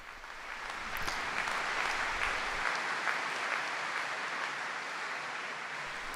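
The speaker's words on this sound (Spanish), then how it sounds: "El aplauso de los fieles que agradecen al Papa su catequesis" Applause from the faithful at a papal general audience: a broad, sustained wash of many hands clapping in a large open gathering, steady and fairly distant, with no talk over it.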